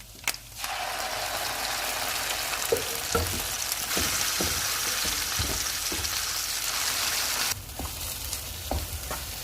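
Steady sizzling and crackling of mustard greens frying in a hot pan, with occasional scraping clicks as they're stirred, continuous and fairly loud throughout.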